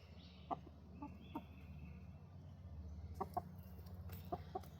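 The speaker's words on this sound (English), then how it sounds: "He's an Easter egger rooster." Easter Egger rooster giving several short, soft clucks spaced across a few seconds, close by and fairly quiet over a low steady background hum.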